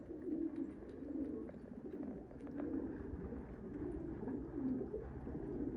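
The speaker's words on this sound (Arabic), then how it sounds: "هذا فرخ فطمة جديدة، هذا ذباني الأبيض ما راضي يحبس مع الفراخ" Domestic pigeons cooing in a loft, steady low rolling coos repeating one after another at moderate distance with no talk over them.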